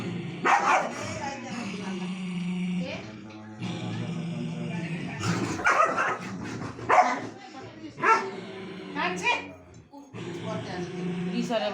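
A dog barks and yips repeatedly at close range amid people talking, the barks coming in short irregular bursts mixed with whimpering sounds.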